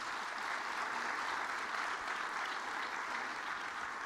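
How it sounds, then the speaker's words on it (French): Studio audience applauding steadily on a French TV show, a dense, even wash of clapping lasting several seconds with no voices over it. "je crois qu'on peut les applaudir"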